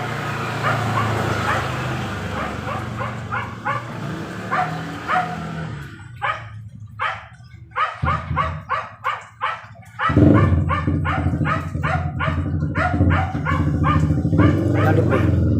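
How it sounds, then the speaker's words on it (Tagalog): Neighbour's dog barking repeatedly in sharp, loud bursts with some yips and whimpers, fairly close, over a steady background hum and outdoor noise. "Yan, yung asong yan sa kapitbahay."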